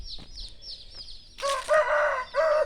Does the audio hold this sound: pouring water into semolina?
no